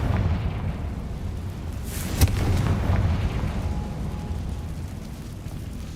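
Confringo explosive spell cast in Hogwarts Legacy: a single sharp burst near the middle, with a crackling flare and a rumbling tail over a steady low ambient hum.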